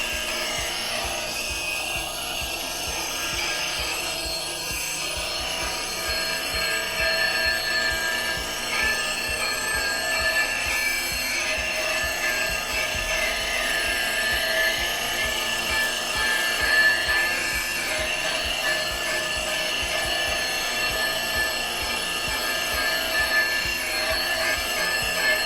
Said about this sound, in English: This knife has been sharpened less than a minute.